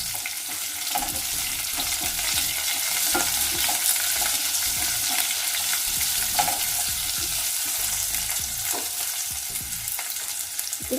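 Cut raw mango pieces fry in a hot pan for mamidikaya pappu, giving a steady, close sizzle with scattered stirring scrapes and clicks, continuous throughout with no talking.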